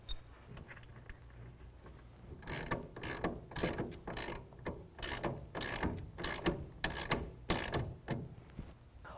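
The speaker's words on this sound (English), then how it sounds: "tighten that down using a 7/16" A ratchet tightens a clamp bolt with a 7/16 socket while a Pace Edwards SwitchBlade metal tonneau cover is installed on a 2007-2013 Chevy, giving a steady run of close, rhythmic clicking strokes after a single sharp knock at the start.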